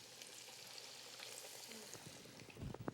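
Chicken breast cutlets fry in hot oil in a pan with a soft, steady sizzle and crackle, quiet and close, with a few louder pops and some clattering movement toward the end.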